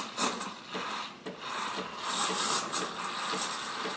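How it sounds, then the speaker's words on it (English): The steam wand of a Breville BES870XL Barista Express espresso machine stretches milk, giving a continuous close, hissing, airy rasp that swells and wavers in intensity without pause. "This time right now is when we're stretching the milk and giving it that nice microfoam"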